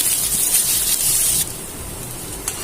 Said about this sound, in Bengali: তেলটা গরম হয়েছে এখন পেঁয়াজ কুচি দিয়ে দিলাম পেঁয়াজটা ফ্রাই হবে